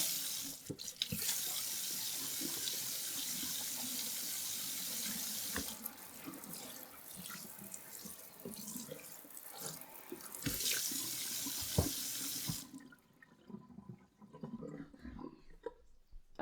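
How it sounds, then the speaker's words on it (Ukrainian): A tap runs water into a sink in a house under renovation, a steady rushing stream that shifts in strength partway through and then cuts off near the end, close by with no talking. "Вода працює отак."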